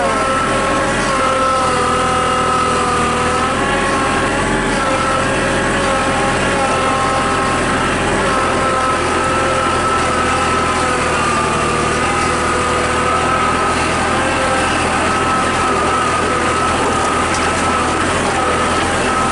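A Kubota tractor with a backhoe attachment runs in four-wheel drive, its engine droning loud and steady at close range with a constant tonal whine and no pauses.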